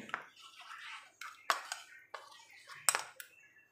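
A spoon clinks and scrapes around a bowl while fenugreek hair mask paste is being stirred, giving sharp irregular taps and soft smearing sounds close by, with quiet talking in between.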